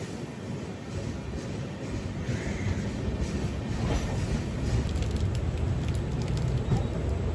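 A Netravati Express sleeper train runs between Aluva and Ernakulam on its way from LTT to Tiruvananthapuram: a steady, unbroken rumble and rush of wheels and carriage noise, even in loudness throughout, with no clear talk.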